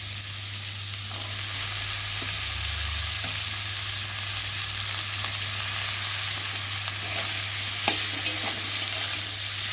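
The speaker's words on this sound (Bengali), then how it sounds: "দিয়ে মশলাটা ভালোভাবে কষিয়ে নেব।" Spice paste sizzles and fries in a pan while being stirred, with a steady hiss and occasional scraping stir strokes, a cabbage and fish-head dish in progress, close and continuous with no talking.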